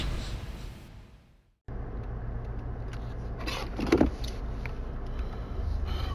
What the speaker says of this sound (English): I'm in my car right now driving